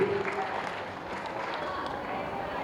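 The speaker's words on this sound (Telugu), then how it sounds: "you must clap for your self" Students at Nehru Niketan school in Tenali clapping together, a steady broadband patter of applause that stays fairly constant for the whole stretch, with a little voice mixed in.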